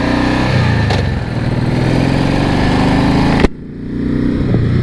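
A Honda VTX1800R motorcycle rumbles loudly while being ridden, a heavy steady engine drone with wind noise that briefly drops and swells back after a sharp shift near the end.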